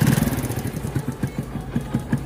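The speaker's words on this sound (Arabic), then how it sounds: "كما كتشوفوا غادي نحاولوا نديماريو الموتور" A small carburetted motorcycle engine, around 50 to 125cc, runs at a rough, uneven idle after carburetor adjustment, with low pulsing firing beats close by and a few slight rises in pace.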